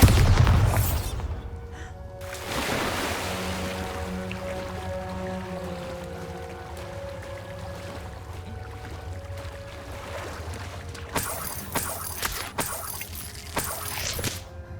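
Bombarda spell explosion in the video game Hogwarts Legacy: a deep booming blast right at the start, followed by a long rumbling, watery-sounding tail with scattered debris clatter and sharp impacts toward the end.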